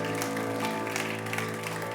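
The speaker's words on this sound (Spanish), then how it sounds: "Denle ese aplauso fuerte a Cristo" A church congregation applauds for Christ during a Spanish-language service, steady massed clapping under sustained tonal music.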